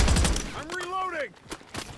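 Gunfire in a shooter video game: a dense burst of shots at the start, then a couple of isolated sharp reports, with a person talking in between.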